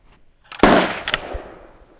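A single loud rifle shot from a Savage 116 chambered in 7mm Magnum cracks sharply at close range during an outdoor ladder load test, followed by a quick echo and decaying rumble, with no talking.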